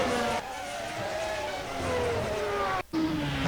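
Race car engine whine from an 18 AGS Ford in an F1 racing game set at the 1991 United States Grand Prix in Phoenix, with a sustained engine drone, falling pitch as the car spins, and a brief cut near the end.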